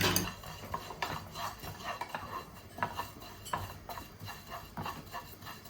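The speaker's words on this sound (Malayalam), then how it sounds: "കുറച്ച് പെരിഞ്ചീരകം ഒന്ന് ഇത് കഴുകി ഉണക്കി വെച്ചിരിക്കുന്നതാണ് വറുത്തെടുക്കുന്നത്." Washed and dried fennel seeds are dry-roasted in a pan, with close, continuous scraping and stirring and rhythmic taps of a spoon against the metal, and no voices.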